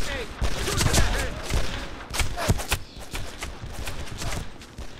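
Gunfire in the video game Made Man, a dense run of sharp shots and bursts with ricochet-like tones, loud and close, with game voices mixed in.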